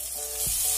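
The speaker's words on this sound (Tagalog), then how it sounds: "igisa ang sibuyas" Onion sautéing in cooking oil in a home kitchen pan, a steady close hiss of sizzle that swells slightly louder partway through, with a brief low thump as it is stirred or tossed.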